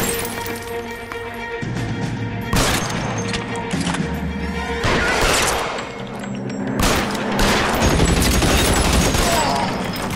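Rapid gunfire from the LA Noire video game, bursts of shots and crashing impacts layered over loud game music, running continuously with brief swells.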